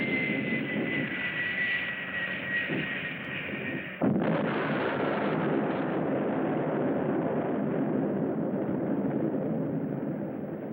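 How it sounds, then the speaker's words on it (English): A loud film sound effect of a nuclear bomb blast: a sudden explosion at about four seconds breaks into a dense, sustained roar, following the steady drone of aircraft engines. "Only a nuclear bomb could cause a blast like that."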